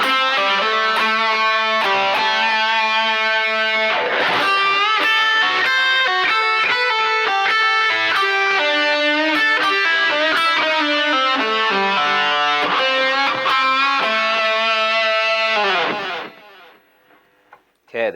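Heavily distorted electric guitar plays the opening phrase of the first solo, fast sustained lead notes with bends ringing loudly and up close before cutting off into near silence at the end.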